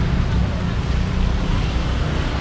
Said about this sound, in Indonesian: jalanannya ramai banget guys